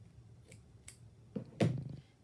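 Scissors cut through felt in a few short, close snips that grow louder, the last one a firm crunching cut; no talking.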